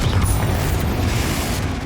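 A Confringo fire spell bursting in the Hogwarts Legacy video game, a loud, dense explosive rumble with low booming and crackle that holds steady through the short moment.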